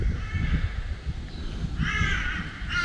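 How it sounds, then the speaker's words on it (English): Several crows caw harshly in repeated bursts outdoors, fairly close and clear over a low background rumble. "Crows hassling pretty well everything."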